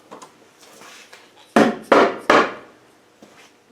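The front cover comes off a Spanish 110 engine with faint scraping and light handling noises, then three loud, sharp clunks of metal parts knocking free in quick succession, followed by a softer tap.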